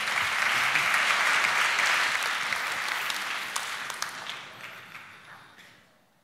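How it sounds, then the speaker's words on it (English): An audience at a startup pitch finale applauds a presenter, steady dense clapping that is loud at first and gradually fades out toward the end. "Give him a round of applause."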